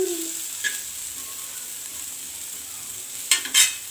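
Onion frying in a little oil until golden, a soft continuous sizzle with a few stirring scrapes, including a clear clatter near the end.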